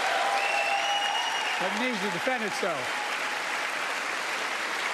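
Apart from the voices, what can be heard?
applause at the State of the Union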